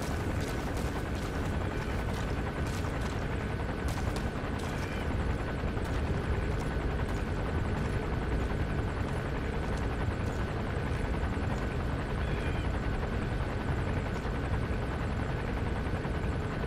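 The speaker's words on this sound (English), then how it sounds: "There's a chopper landing." A helicopter lands in the video game Metal Gear Solid V, its rotor roar steady and loud throughout with no pause.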